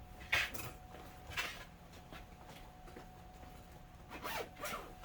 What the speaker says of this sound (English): put everything away back in the bag, suitcase, and zip it up.